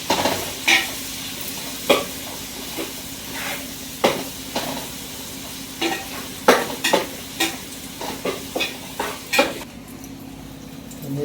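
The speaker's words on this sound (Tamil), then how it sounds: "இப்போ 2 தக்காளியை போட்டு கரைக்க போகிறேன்." Two tomatoes are mashed and stirred by hand into tamarind water seasoned with turmeric, salt and chili powder. Irregular wet squelches and sharp utensil taps repeat every second or so, close and alone.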